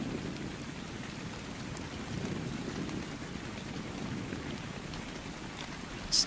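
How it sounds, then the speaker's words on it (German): Steady, soft rain falls continuously in the survival game ARK: Survival Evolved, a even wash of drops with a faint brief tick near the end. "Es könnte langsam mal wieder aufhören mit Regnen"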